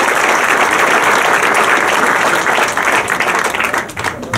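Loud, dense applause from a crowd at a festival inauguration honouring volunteers, sustained throughout and tapering slightly near the end.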